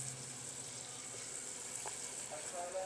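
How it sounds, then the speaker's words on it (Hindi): Batter-dipped chana katori frying in hot oil, giving a steady, faint, even sizzle with no break throughout. "ऐसे हल्का सा झाड़ के ऑयल के अंदर इसको फ्राई कर लेंगे"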